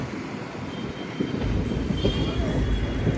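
The Repalle Express, running from Secunderabad toward Tenali, rumbles and rattles steadily on its rails, heard from on board. The noise swells louder and fuller partway through, with faint wheel squeal.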